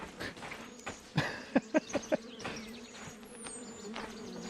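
Bees buzz in the video game The Vale, a faint insect drone heard alongside a few short knocking or footstep-like taps and background game sounds.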